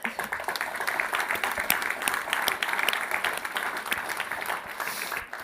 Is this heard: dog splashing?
no